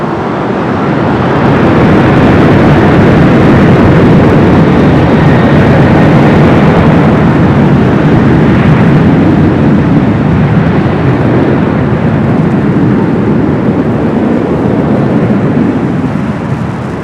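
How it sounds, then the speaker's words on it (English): Boeing 787-8 Dreamliner airliner at Los Angeles LAX airport, its engines producing a loud, steady, broadband roar that holds throughout with a slow swell and fade, no voices. "787-8 Dreamliner."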